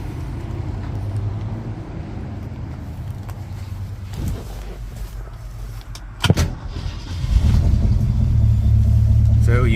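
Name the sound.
1966 Ford Mustang 289 V8 engine running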